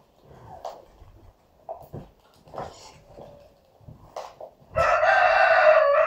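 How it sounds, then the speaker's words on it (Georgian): A mongrel rooster crowing indoors, a loud, close, drawn-out crow near the end after a stretch of quieter clucks and scattered shuffling noises. "აქ შემოხვალ ეს უჯიშო მამალი ყივის."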